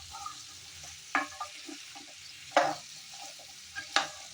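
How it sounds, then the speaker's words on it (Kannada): Sweet pumpkin palya cooking on a high flame crackles with a gentle background sizzle, broken by three sharp scraping stirs of a spoon against the pan at regular intervals. "ಒಂದು 2 ನಿಮಿಷ ಹಾಗೆ ಹೈ ಫ್ಲೇಮಲ್ಲಿ ಅದನ್ನು ಮಗ್ಗೋದಕ್ಕೆ ಬಿಡೋಣ."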